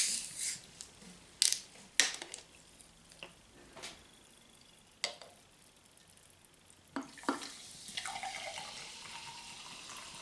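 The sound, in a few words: pouring mineral water to sip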